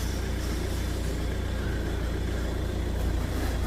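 Volvo V70 engine idling after a timing belt replacement, with a suspected belt tensioner noise: a steady, close mechanical drone with a fine rhythmic ticking throughout and no talk.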